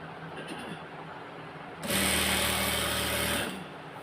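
Sewing machine topstitching a six-panel petticoat runs in one steady, loud burst of about a second and a half, after quiet handling at the start, then stops abruptly.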